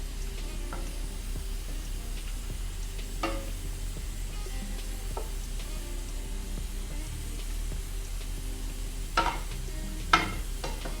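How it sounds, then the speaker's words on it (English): Food fries in a pan with garlic, giving a steady soft sizzle, with a few louder scrapes and clanks of stirring utensils now and then. "And leave it to fry."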